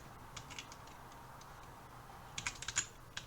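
Computer keyboard keys clatter during a racing game, Horizon Chase Turbo: a few scattered taps early, then a quick cluster of sharper presses near the end, fairly close over a quiet background.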